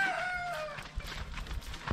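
A Rhode Island rooster crows once in a drawn-out, wavering call at the start, followed by scattered clucks and farmyard shuffling nearby.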